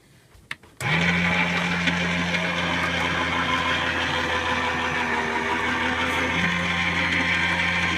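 A Gemini Junior die-cutting machine flattening a bottle cap on a thicker mat starts up with a click and runs with a steady, loud mechanical hum and grinding whir, its pitch dipping briefly partway through.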